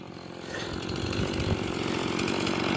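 A chainsaw runs loud and steady close by cutting firewood logs to size, its whine holding and swelling slightly as it bites into wood.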